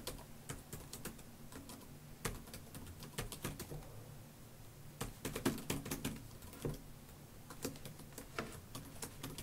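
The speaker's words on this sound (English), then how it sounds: "So we'll type in our HTTP GET request in this case." Rapid, irregular keystrokes on a computer keyboard, clicking in quick bursts with brief pauses, close and fairly quiet against a low background hum.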